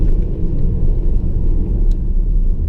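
Deep, close rumble of a Jaguar F-PACE 30d diesel SUV engine under way, with a low, steady drone and mild swells where the throttle is blipped on downshifts, no talk.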